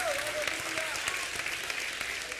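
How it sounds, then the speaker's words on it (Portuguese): A church congregation applauds during a sermon by a pastor, a dense wash of clapping heard at steady volume with a voice faintly threaded through it. "Aplauda o Senhor"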